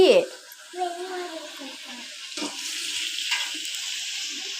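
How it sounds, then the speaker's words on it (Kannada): Vegetables frying in oil for a home-cooked pulao give off a steady, low hiss of sizzle that runs throughout, with a brief clatter at the start and a voice speaking over parts of it. "ನಾನು ಇವಾಗ ತರಕಾರಿ ಎಲ್ಲ ಹಾಕ್ಕೊಂಡು ಎಣ್ಣೆಯಲ್ಲಿ ಫ್ರೈ ಮಾಡಿಕೊಂಡು"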